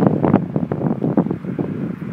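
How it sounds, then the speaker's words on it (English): Buffeting wind noise rumbles against the microphone in uneven low gusts, continuous and fairly loud throughout. "Sorry about the wind. It's a little windy up here."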